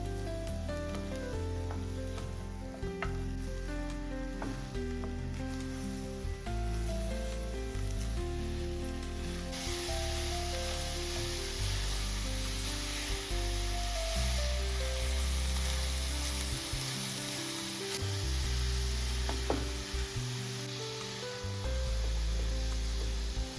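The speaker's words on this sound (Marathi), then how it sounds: "गॅस त्याला थोडा मध्यम करून गूळ परतून घेऊ खोबऱ्यात." Jaggery and grated coconut sauté in a pan over medium heat, giving a steady close sizzle and frying hiss with soft stirring scrapes throughout and no talk.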